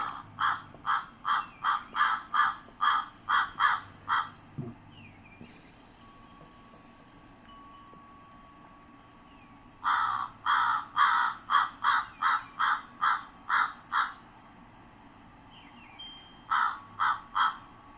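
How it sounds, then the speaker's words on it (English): An American crow in Vermont calls in loud, harsh caws, first a run of about eight evenly spaced calls, then a pause, another long series, and finally a short cluster of three, all clear and close. "So this is the American crow."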